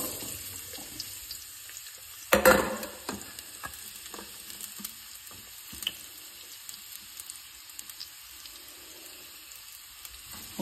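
Beetroot pieces being added to hot oil in a pan for a beetroot pachadi, with a sharp burst of sizzle followed by steady low frying crackle and occasional stirring clicks, with no talking.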